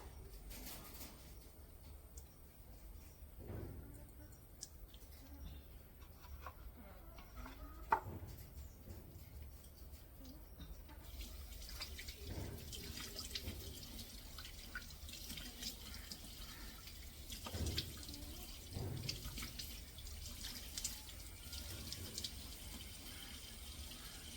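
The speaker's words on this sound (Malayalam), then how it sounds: "മുഖം കഴുകാൻ സോപ്പൊക്കെ ഇട്ട് നന്നായിട്ട്" Tap water runs at a low, steady level while a face is washed with soap, with soft splashes and drips now and then and no talking.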